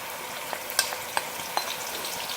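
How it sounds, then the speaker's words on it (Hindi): Chopped onion, garlic, ginger and green chilies fry in hot oil with a steady close sizzle, broken by a few sharp ticks and scrapes of stirring, with no talk. "ऑयल गर्म हो चुका हुआ है। अब इसमें शामिल करेंगे प्याज, लहसुन, अदरक और हरी मिर्चें।"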